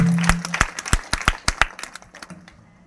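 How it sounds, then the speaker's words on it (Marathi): An audience at a village kirtan gathering claps briefly; a burst of sharp, uneven hand claps starts close and loud, then thins out and fades within a few seconds. "टाळ्या वाजवा"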